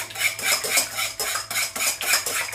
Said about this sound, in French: on va bien battre les œufs